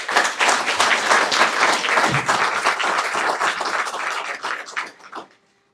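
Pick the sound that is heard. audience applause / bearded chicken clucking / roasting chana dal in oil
audience applause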